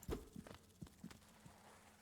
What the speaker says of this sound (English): I hear the heartbeat thing.